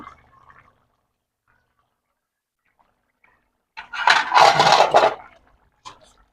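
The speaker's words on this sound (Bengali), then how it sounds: "এবার ঢাকনাটা খুলে দেখে নেব" A lid lifted off a pot of chicken and potato curry cooking in a home kitchen, a short metallic clatter and scrape around the middle, after near silence and faint background voices.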